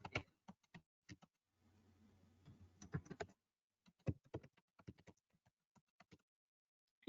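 Sparse, quiet keystrokes tap on a computer keyboard as a password is entered, irregular single clicks with short pauses and a faint low hum in the middle.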